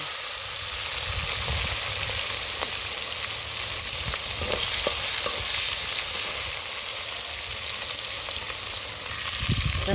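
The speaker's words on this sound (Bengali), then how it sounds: "তো দেখো তেলের মধ্যে টমেটোগুলো দিয়ে দিলাম।" Chopped tomatoes dropped into hot oil hiss and sizzle loudly and without a break, close by, with a few faint knocks of stirring underneath.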